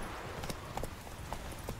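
Horse hooves clip-clop at a steady trot while riding on horseback in The Witcher 3, a run of distinct, evenly spaced hoof strikes over a constant game ambience.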